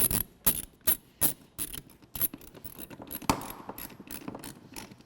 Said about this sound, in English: And then I'll reinstall the T30 Torx fastener to the bottom of the seat.